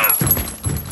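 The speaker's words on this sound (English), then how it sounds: "Swapping mags." A magazine swapped during Kill Confirmed play in Call of Duty: Modern Warfare, heard as a quick pair of close, dull mechanical thunks and clicks within about a second, with no voices.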